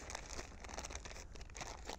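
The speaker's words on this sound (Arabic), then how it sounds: "هذه الأساور الذهبية راح نخليها في هذا الكيس البلاستيك" Gold bracelets being placed into a plastic bag, giving close, continuous soft crinkling and rustling of the plastic with no talking.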